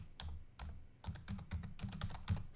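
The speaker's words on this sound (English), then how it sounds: "we're going to type in motivational" Fingers type on a computer keyboard in quick bursts of clicking keystrokes separated by brief pauses, close and clear with no talking.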